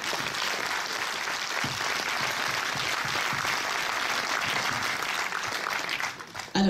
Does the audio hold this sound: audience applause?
yes